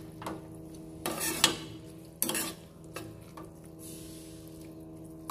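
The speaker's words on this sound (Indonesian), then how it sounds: "Nah terus kita aduk-aduk, biarkan dia tercampur rata." Intermittent scraping and clinking of a utensil stirring spaghetti carbonara sauce in a pan, a few distinct strokes over a soft steady background hum.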